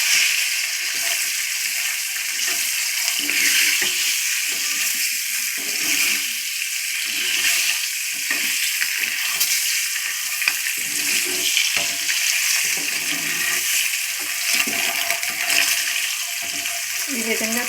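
Egg masala frying with turmeric in a pan, a steady loud hiss and crackle of hot oil continuing throughout, with occasional stirring scrapes.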